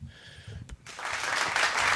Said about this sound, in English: He's so good at the applause button.